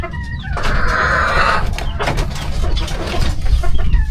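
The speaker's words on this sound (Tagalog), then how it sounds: "papakain pa ng manok. Patuka pa ng mga manok." Chickens cluck at a home in the middle of Laguna Lake as they are being fed. A short, close burst of loud clucks and fowl calls rises over a busy background.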